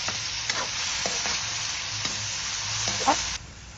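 Onion and tomato sauté in a hot pan with a steady, close sizzle, while a spoon scrapes and stirs at intervals for several seconds.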